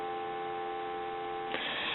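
A steady, even dial tone hums from an Astral Telecom Galway crystal telephone, faint and unbroken, with a click and slight shift near the end.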